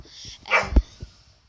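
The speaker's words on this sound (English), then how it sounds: "That's just the dog barking." A dog gives a couple of short, sharp barks nearby, with a brief pause between them, followed by quiet.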